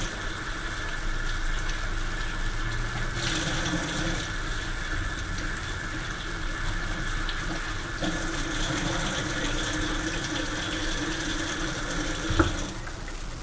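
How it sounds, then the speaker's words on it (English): Organ meat rinsed under a running kitchen tap, a steady close rush of water with no talk, a faint clink near the end. "basically just like rinsing them with water"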